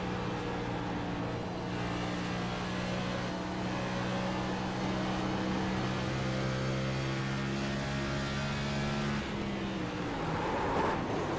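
A stock car in a Next Gen Cup racing game at Dover drones in a steady onboard engine hum that holds a constant pitch, then briefly dips and shifts near the end as the car brakes hard, with no voices.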